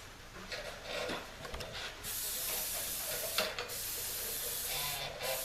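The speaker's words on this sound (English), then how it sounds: "Start your spray off on the paper, make sure it's good." Aerosol spray paint fires in a few short hisses onto paper, then in a long, steady, close hiss while a smoked coat is laid over a car headlight.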